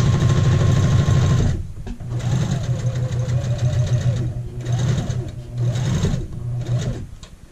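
A sewing machine stitches the neckline of a child's shirt, an eighth of an inch from the cut edge, in a loud steady whirring run that pauses briefly, then resumes in shorter bursts.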